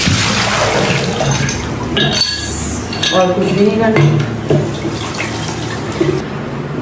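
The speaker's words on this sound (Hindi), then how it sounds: "पत्तों को मैं इस तरह धो देती हूँ" Tap water runs over plant leaves being washed by hand, a steady splashing stream with occasional clinks of dishes, while someone talks over it.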